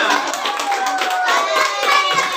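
Children in a primary school classroom clap together for everyone, a dense steady patter of many hands filling the short stretch close by, with voices mixed in underneath.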